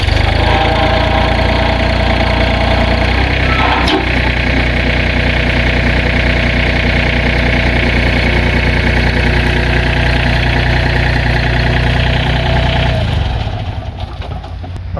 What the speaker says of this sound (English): Okay, so we're going to crank up the tractor and disengage this box blade.